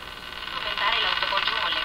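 An old Crosley 43FB farm radio hisses with band-limited static and a faint, muffled Spanish-speaking voice coming through the tinny speaker.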